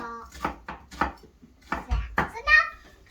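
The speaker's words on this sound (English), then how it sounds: "And then chopping up our onion here." A knife chops a purple onion on a cutting board in a home kitchen, giving a series of irregular sharp knocks with short pauses, close by.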